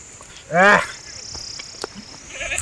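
One loud, wavering bleat from a lamb rings out close by at a Gaddi shepherds' camp among sheep, followed by faint scattered sounds in a quiet outdoor setting.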